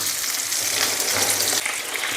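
Homemade shawarma filling fries in a pan, giving a steady, moderately loud hissing sizzle with soft crackles and a light stirring texture that dips briefly near the end, with no talking.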